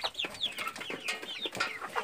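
Young frizzle chickens clucking and chirping close by on a farm, a busy run of short, overlapping calls with a rooster among them and no talk.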